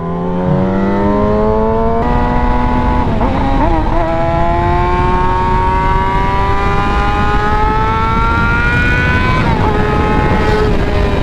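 Motorcycle engine revving hard as the rider cranks the throttle for a power wheelie, a loud, sustained whine that climbs steadily in pitch with a brief dip and re-rise, close and continuous throughout.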